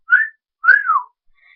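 A person whistles two short tones, the second a longer sliding note that falls in pitch, clear and close against silence, followed by a faint trailing whistle.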